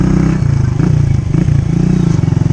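Enduro motorcycles ride past on a trail near Sitio Baag in Tarlac. Their engines make a loud, close, continuous drone that rises and dips in pitch as the throttle changes, with some rattling clatter.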